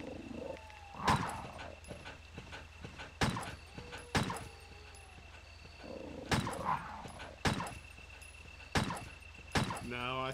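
Dog enemies in Resident Evil: Director's Cut, snarling and barking in short growling bursts spread across several moments, mixed with game effects and sharp impacts while a player talks over them.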